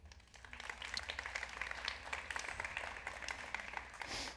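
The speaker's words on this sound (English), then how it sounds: "you do have to clap after every single one" A chapel audience applauds after a spoken reading, with dense, steady clapping from a moderately distant crowd that holds throughout and swells slightly near the end.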